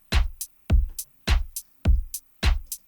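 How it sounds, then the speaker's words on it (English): A programmed drum pattern from a song production loops steadily, with five punchy low kicks, each answered by a crisp hi-hat or clap in an even bouncing rhythm, loud and clean. "And the drums sound like this."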